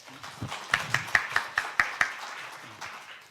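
Short burst of applause from a symposium audience welcoming a speaker, a handful of sharp, fairly sparse claps in a quick even rhythm that fade out after about two seconds.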